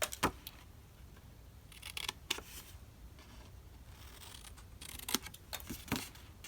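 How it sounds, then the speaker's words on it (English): Quiet, scattered snips and crisp rustles of scissors cutting paper, irregular sharp clicks with soft pauses between them, close by. "Then I'm going to take my scissors"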